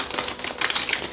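A deck of tarot cards being shuffled, giving a steady stream of soft papery riffling and snapping close by, with no one speaking.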